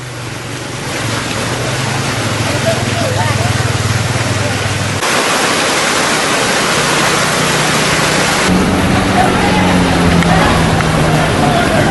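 Floodwater surges through Pangkal Pinang, Bangka Belitung, in a loud, steady broadband roar of rushing current that holds unbroken for the whole stretch, with a low droning hum underneath in places.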